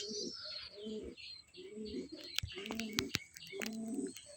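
A pigeon coos in repeated low, throaty phrases about once a second, close by, with a few sharp clicks and faint chirps between the calls.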